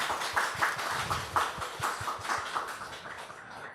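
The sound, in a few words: congregation applauding the choir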